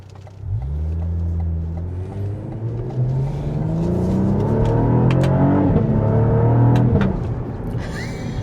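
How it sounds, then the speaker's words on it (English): A Cadillac CT4-V Blackwing accelerates hard through rising revs, its engine note climbing and shifting, with sharp exhaust pops crackling near the end, loud and close with no voices. "That pop that you hear from that exhaust is magnificent."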